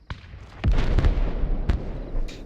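Ammunition cooking off inside a destroyed armored vehicle in a military combat video game: a string of sharp explosive bangs and pops, loud and close, with crackling bursts in between.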